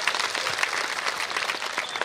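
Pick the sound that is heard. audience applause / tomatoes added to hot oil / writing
audience applause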